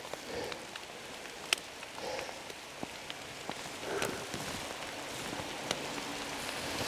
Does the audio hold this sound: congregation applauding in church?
no